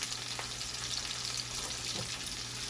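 Food sautéing in a pan gives a steady, fairly quiet broadband sizzle with faint crackles running throughout, a low hum underneath, and no voices.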